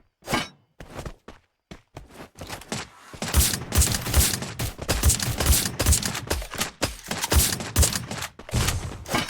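Video game gunfire during a tournament grand final: sparse isolated shots give way to dense, overlapping bursts of rapid fire and impacts, loud and close, with no voices over them.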